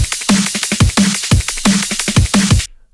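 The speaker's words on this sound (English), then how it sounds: "The snare drum, it sounds like this." A snare drum from a drum loop sample plays alone in a tight, repeating pattern, with about a dozen sharp, punchy hits alongside lower thuds, loud and upfront before stopping abruptly.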